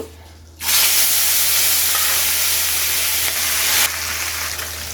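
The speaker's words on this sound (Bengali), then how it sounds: "যতক্ষণে মাছগুলো ভাজছি" Pieces of rohu fish dropped into hot oil in a pan, bursting into a loud, steady hiss of frying that holds for several seconds and then eases slightly, heard close with no voices.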